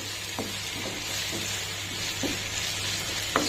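Dried curry leaves fry in hot oil for a bodakakara curry, making a soft steady sizzle with a few faint crackles and light stirring knocks, quiet and close, with no talking.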